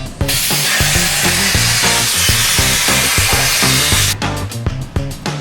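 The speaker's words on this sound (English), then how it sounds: "cutting out a piece of steel" A power tool cuts through a piece of steel for a truck cab build, a loud continuous grinding whine with rhythmic pulsing that stops after about four seconds and is followed by a few short bursts.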